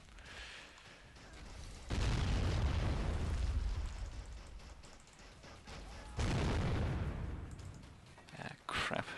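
Heavy machine guns and explosions in the Men of War game, with two long roaring bursts of dense gunfire and blasts separated by a quieter lull and a few scattered sharp pops.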